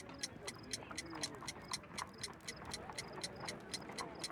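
Ticking homemade time bomb built from an alarm clock with bell and hammer in Sherlock Holmes The Devil's Daughter, a steady fast mechanical ticking with sharp regular clicks over a low murmuring background.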